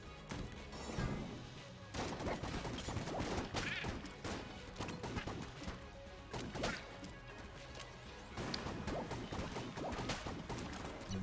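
Rapid gunfire from the video game Enter the Gungeon, a dense, busy stream of sharp shots and impacts that continues throughout with only brief dips, with no talking.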